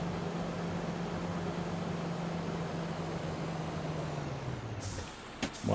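Truck air brakes in the driving game American Truck Simulator, a steady engine drone ending in a sharp, loud hiss of air release, heard alone without talk.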